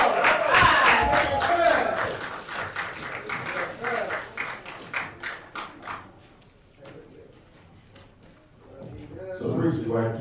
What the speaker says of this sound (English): House and cast another round of applause